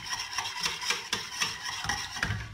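Lokmet el Bacha dough stirred in a pot over low heat, a soft rhythmic scraping and rubbing of the spoon against the metal, repeated strokes close up with no talk.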